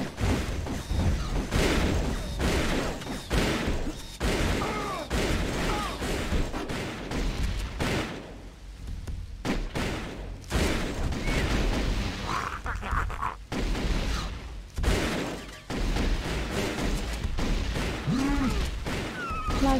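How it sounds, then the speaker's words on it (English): A plasma rifle in a multiplayer video game match against bots fires in loud, rapid bursts. Dense volleys repeat almost nonstop, with a brief lull near the middle, over other battle noise. "Plasma rifle."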